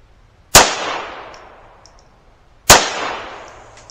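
Two sharp, loud gunshots from a .22LR Ruger Mk 2 pistol crack about two seconds apart, each ringing briefly into a short echo.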